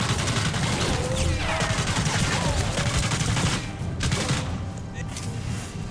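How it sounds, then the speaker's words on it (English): A grenade goes off in the video game Sniper Elite 3 amid a burst of rapid gunfire, with sharp cracks and booming blasts stacked together at close range. "Oh yeah, take that grenade, sucker."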